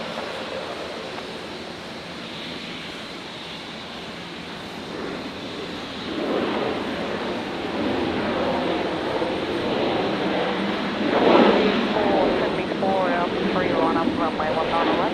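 A Qantas jet airliner on approach to land on runway 19 right at Brisbane Airport, its broad engine roar steady and distant at first, then swelling louder as it nears, with radio talk over it.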